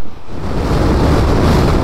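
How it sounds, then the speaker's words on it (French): Strong wind from a sandstorm in Algeria roars steadily and loudly across the microphone, a dense, blustery rush with no voices, like gusts buffeting outdoors. "il y a un vent de ouf là à droite"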